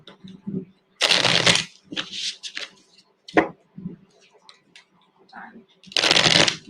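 Cards are shuffled for a reading: loud, close riffling bursts broken by pauses, while a voice speaks quietly in the gaps.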